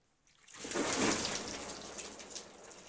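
Cold water poured onto a person's lap, a sudden rushing splash that swells quickly, then settles into a steady nearby trickling and dribbling.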